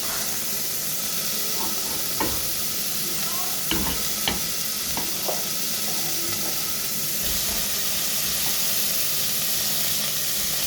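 Chicken pieces sizzle steadily in a hot pan, a constant frying hiss with occasional clinks of a utensil against the pan.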